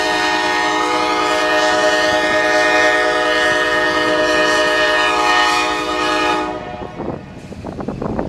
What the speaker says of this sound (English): two big GEs hauled this huge train of orange juice to Tampa nonetheless